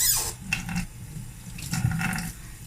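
Tap water runs steadily into a sink while a makeup brush is rinsed under it, a continuous close splashing with small shifts in flow and no talking.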